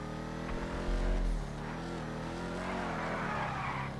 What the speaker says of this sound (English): this car, more than, like a track car, it does skid and drift a bit